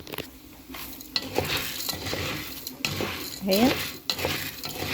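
Pasta fries in a pan while being stirred, a soft sizzle under repeated utensil scrapes and clinks against the pan, with a brief voice.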